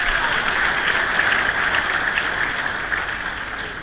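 Steady applause from an audience at a French academic event, a dense crackle of clapping that holds evenly for a few seconds without speech over it.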